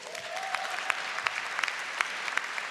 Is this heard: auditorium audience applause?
yes